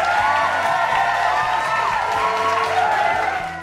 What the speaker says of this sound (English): this applause and cheering you hear, totally fake